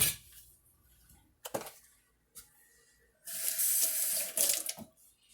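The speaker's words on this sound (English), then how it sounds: "And we'll add 1/4 of a cup of water." Water poured from a faucet into a pot for cooking a Chinese meal, a short splashing stream near the end after a few quiet clinks, close and moderately loud.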